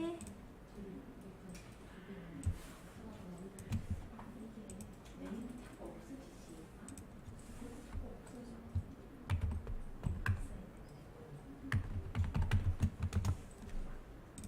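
Fingers tap away at a computer keyboard in quick irregular bursts of soft clicks, with a voice talking over the typing throughout.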